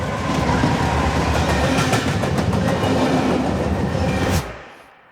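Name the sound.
train rumbling on rails sound effect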